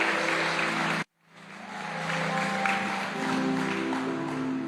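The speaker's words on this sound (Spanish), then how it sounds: "Dale ese aplauso al Señor." Applause from a church congregation during a bilingual service, briefly cut off and then resuming as steady clapping with a sustained musical tone beneath it.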